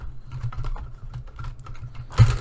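A craft knife drawn along a ruler to cut out a paper embellishment for a journal, giving a run of soft scratchy scrapes and light taps up close, ending in a sharper knock, with no talking.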